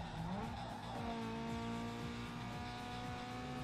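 A game car drifts in Need for Speed Underground 2, its engine droning steadily while tires squeal in a long rising-then-sustained skid, loud and continuous with no voices.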